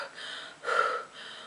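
A person 18 months after gastric sleeve surgery breathes heavily after eating: a few loud, close, raspy inhales and exhales, with one sharper gasping breath in the middle.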